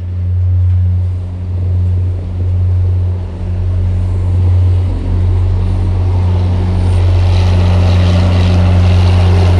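A deadheading MBTA train departs a Boston station across a maze of switches and crossovers. It gives a loud, steady low drone with rumbling that swells slightly as it passes near, and no one speaks.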